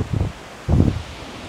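A breeze gusts in two soft rustling bursts around a forest trekking shed near a waterfall in Valparai, with leafy swishes and low wind buffeting, no voices.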